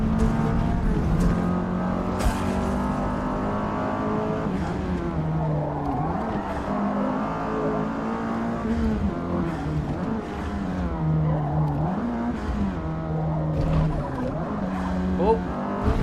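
A race car in Forza Motorsport drives hard with a loud engine rising and falling through the gears and repeated tire squeals from skids, while someone talks over it.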